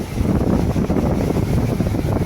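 A boat heads out to sea through surging waves. A steady, loud rush of wind and water with low engine-like rumble fills the whole stretch, with no one speaking.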